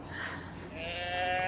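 A replica teddy bear growler voice box gives a wavering, bleating cry much like a sheep, one sustained call that rises into a buzzy, tremulous tone, heard up close without speech.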